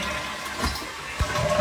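A toilet flushing indoors, a brief rushing and gurgling of water that stays close and fairly loud.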